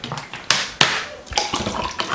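Water running from a tap, a steady close hiss of splashing flow broken by a couple of sharper bursts of spatter.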